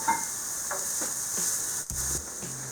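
Vegetables cooking in a frying pan for pan-fried spaghetti noodles with peanut sauce: a soft, steady sizzle with faint stirring scrapes and a brief clatter near the end.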